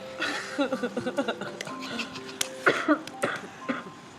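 A series of short bursts of coughing from a nearby person, some rough and throaty, with brief pauses between fits.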